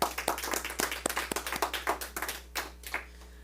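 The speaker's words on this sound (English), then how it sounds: "Let's give her a round of applause," A small group applauds after a visioning talk at a spiritual centre, with distinct individual hand claps in a quick, uneven patter that thins out toward the end, fairly close and without speech.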